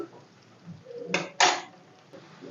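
A metal lid set onto a pan of frying carrots, two quick clattering clanks close by over a faint background hiss.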